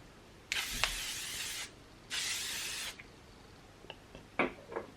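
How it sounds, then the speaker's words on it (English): Two long hissing bursts from a pump bottle of makeup setting mist sound close up, each lasting about a second, followed by quiet handling clicks and small rustles. "I'm just going to give them a bit of a spray now"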